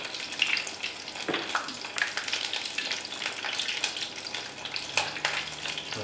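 Spoonfuls of whole wheat grain corn ball batter frying in hot oil, a steady close sizzle and bubbling with brief louder spatters as each ball drops in, no voices.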